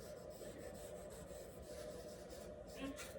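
Compressed charcoal rubbed steadily across paper while shading a sphere drawing, giving a soft continuous scratchy rasp that stays even and close throughout.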